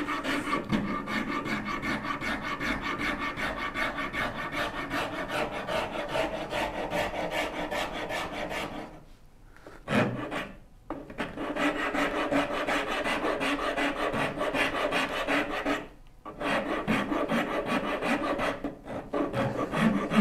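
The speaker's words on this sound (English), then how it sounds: "This might be the first time I've used my rasp on anything and actually got to stand up straight" A rasp files steadily at the wood of a tall Shaker Enfield cabinet in long, continuous rough strokes, close by, broken by two short pauses with no talk.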